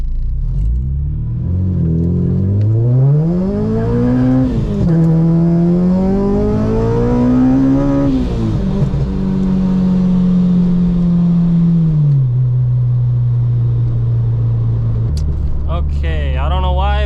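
A supercharged Acura RSX with a Kraftwerks supercharger, about 350 wheel horsepower, pulls away from a standstill. The engine note climbs loudly and steadily through the revs, then holds a lower droning pitch.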